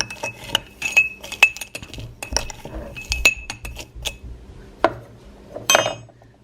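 Dates and bananas stirred in a glass, giving sharp clinks and taps of a utensil against glass in irregular bursts, close and fairly loud, with pauses between strokes.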